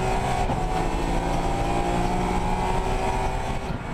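BMW 1 Series, Z4 and 3 Series race cars battle at the Nürburgring in a Supercar Challenge round, with a continuous loud engine roar and a steady high whine sustained throughout.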